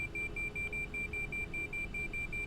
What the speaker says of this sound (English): I was just going to do the inner marker and the outer marker beeping all the way to the end of the runway